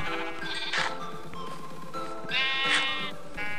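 Sheep in the video game Minecraft bleat loudly and near, several wavering cries one after another over a steady background.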